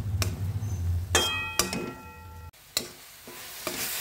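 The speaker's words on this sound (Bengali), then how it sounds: "গাজরটা একটু নেড়ে নেব যাতে গাজরের কাঁচা ভাবটা" Grated carrot paste frying in a pan sizzles while a utensil stirs it, giving repeated scraping strokes with metallic clinks and a brief ringing tone between them.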